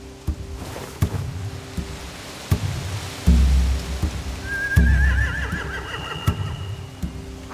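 A horse whinnies, high and trembling, amid clip-clopping hooves and thumps, with a low hum underneath, in the video game The Walking Dead: The Final Season.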